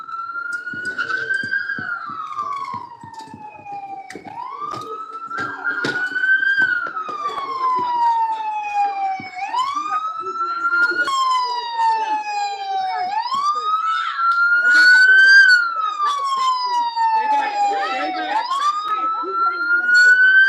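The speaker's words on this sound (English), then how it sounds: "Sorry about the siren." A police car siren wails loudly and close, sweeping up and down in repeated long cycles for about twenty seconds, with crowd noise and scattered voices mixed underneath.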